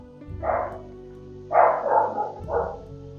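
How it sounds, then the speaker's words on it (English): A pet dog barks at a garden gate in three or four short, fairly loud yelping barks, slightly distant, with a quiet household hum beneath and no talking. "Please forgive my doggy, he's barking at the gate."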